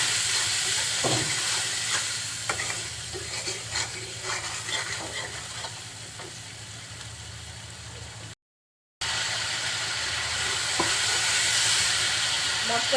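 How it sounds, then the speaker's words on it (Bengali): Turmeric and other spices fry in oil in a pan for a rohu fish and cauliflower curry, a dense continuous sizzle with scattered crackles and stirring scrapes, close and steady, cut by a brief gap of silence. "তেলের সাথে সমস্ত মশলাটা এখন খুব সুন্দরভাবে কষিয়ে নিব।"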